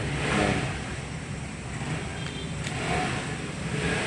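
A Yamaha Aerox 155 scooter, started with its key, runs steadily at moderate level, its engine drone rising slightly in places with no voices.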